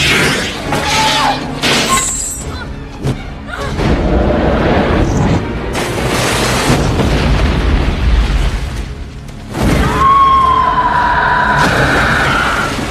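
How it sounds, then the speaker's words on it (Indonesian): A tower blown up with the anaconda inside in the 1997 film Anaconda: loud booming blasts and rumbling debris with shattering and whistling tones, dense and continuous throughout, under faint voices. "Mereka pun meledakkan tower tersebut beserta si anaconda."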